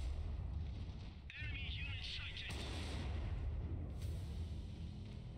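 Mortar bombardment in the strategy game Iron Harvest fills the clip as a dense, loud, continuous roar of battle, with heavier blasts breaking through near the start and again a little later.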